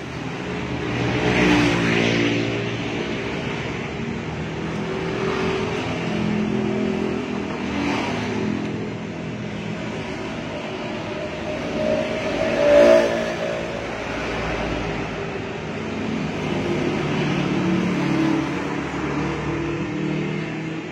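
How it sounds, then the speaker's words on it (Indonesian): Loud motorcycle exhausts rev in the background while an electric fan motor is being rewound. The engines rise and fall in several swells, with the loudest burst about midway, and no talk is heard. "Knalpotnya kencang-kencang banget tuh."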